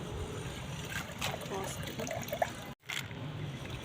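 Wheat grains are washed in water, giving a faint trickling and splashing against a quiet background, with a voice talking at times.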